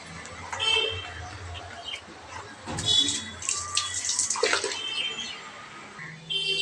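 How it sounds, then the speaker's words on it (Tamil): Water splashing and running across a home balcony floor as it is washed, uneven bursts of pouring and spattering up close, with faint chirps in the background. "பால்கனியை கழுவி விட்டுறலாம்."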